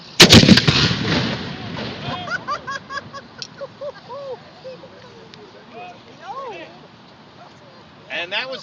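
Historic cannon at a fort fires a reduced one-third pound powder charge: one sharp, loud boom that echoes and decays, followed by crowd murmurs and someone speaking.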